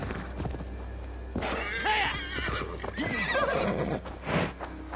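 A horse in Assassin's Creed Valhalla whinnies loudly several times over clip-clopping hooves and a low steady game background, with no talking.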